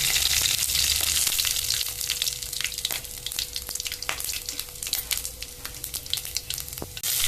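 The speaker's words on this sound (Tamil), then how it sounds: "இப்போ பட்டை, பெருஞ்சீரகம், ஜீரகம் எல்லாத்தையும் போட்டு தாளிக்கணும்." Cinnamon, fennel and cumin sizzle and crackle in hot sesame oil for a chicken gravy, a close, steady frying hiss broken by sharp pops and stirring clicks, with no talk.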